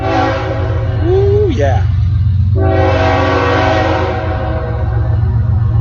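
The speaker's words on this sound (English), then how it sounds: "you're going to hear the train going by right now" A slow freight or passenger train rumbles steadily nearby and loudly sounds its horn in long sustained blasts, while a person exclaims over the din.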